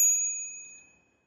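A bicycle bell on a road bike gives a single bright ding that rings out clearly and fades away over about a second.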